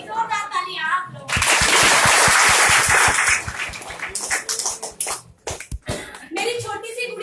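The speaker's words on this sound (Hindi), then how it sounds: "एक जोरदार ताली आप लोग।" An audience at a talk breaks into loud, dense applause that holds for about two seconds and then thins into scattered claps, with a voice speaking before and after it.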